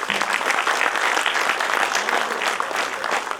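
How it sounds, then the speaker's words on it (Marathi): A hall audience at a Rotary club project inauguration claps in steady, dense applause to welcome the District Governor onto the dais, a loud continuous patter with no clear voices on top. "टाळ्या थांबल्या नाही पाहिजे, सुरुवात करा"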